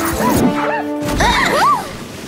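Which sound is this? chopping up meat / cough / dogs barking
dogs barking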